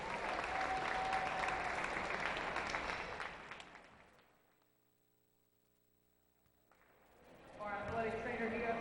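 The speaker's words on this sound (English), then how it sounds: "Have another great applause for the boys." Crowd applause in a school gym after a boys basketball game, a dense clapping wash that fades to near silence midway before voices and noise return.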